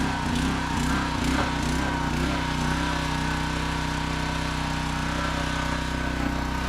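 A gasoline engine on a pressure washer runs at a steady idle, close and loud. It sits in the middle of a foundation wash that clears moss and algae growth, and the engine drones on without a break.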